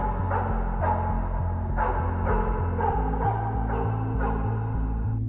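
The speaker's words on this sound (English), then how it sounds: "we hear dogs barking" Dogs bark repeatedly in the FNAF 4 video game, about six regular, moderately close barks over a steady low droning backdrop, with no talk.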